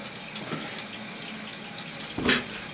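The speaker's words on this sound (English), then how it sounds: "This is a Niagara Stealth. Flush the toilet." A backed-up Niagara Stealth toilet is flushed, giving a steady rush of water throughout with a brief louder surge of gurgling water near the end.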